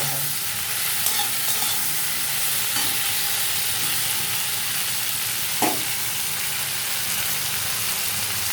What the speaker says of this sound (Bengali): এটাকে এবারে আস্তে আস্তে করে নাড়াতে হবে